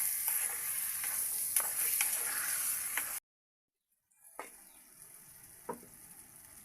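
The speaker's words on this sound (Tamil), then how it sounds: "புதினா இல்லை, மல்லித்தலை, உப்புத்தூள் சேர்த்து நல்லா வதக்கிக்கொள்வோம்" Mint, coriander leaves and salt hiss as they sauté in a pan, with brief stirring scrapes; the sizzle drops out for about a second, then returns more quietly.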